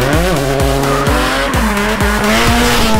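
Rock crawler 4x4 engine at an off-road competition near Nara, Japan, loud and close, revving hard in rapid repeated bursts with the pitch rising and dropping as the throttle is blipped.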